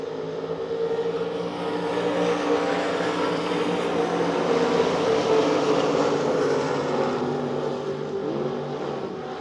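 Race cars racing at Devil's Bowl Speedway, a sustained, loud engine drone with shifting pitch as the field circles the track, steady throughout with no speech.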